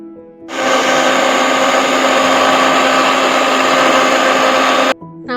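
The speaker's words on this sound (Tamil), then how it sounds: "அப்புறம் தண்ணி ஊற்றி மிக்ஸி ஜாரில் போட்டு நல்லா அரைச்சிடுங்க" An electric mixer grinder blends neem and curry leaves with fenugreek, cardamom and water in its jar, running as one loud, continuous whirring drone for about four seconds before switching off abruptly.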